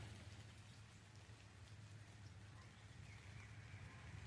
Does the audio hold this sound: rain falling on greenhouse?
yes